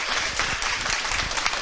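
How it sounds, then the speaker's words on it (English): Audience applause at a conference session on plant-based food, a brief, fairly loud patter of many people clapping with a few sharper individual claps standing out. "Great applause, Tobias"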